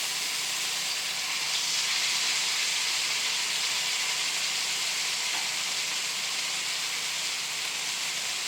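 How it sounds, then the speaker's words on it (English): Meat held up with a meat fork browns on its edge in a hot pan, giving a steady, close, bright sizzling hiss that carries on evenly without pause. "using the meat fork to hold it up and just brown it on the edge there"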